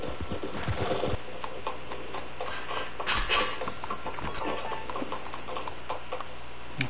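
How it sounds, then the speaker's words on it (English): A horse's hooves clop and shuffle on a wooden doorway floor in the video game Red Dead Redemption 2 Online, uneven close steps with a busy patch near the start and another midway. "Horse is just tap dancing in the doorway."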